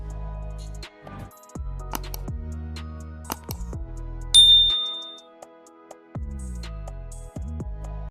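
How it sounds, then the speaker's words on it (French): A bright notification bell ding rings out once near the middle, sharp and clear, with a quick decay over a bed of music. "activer la cloche de notification"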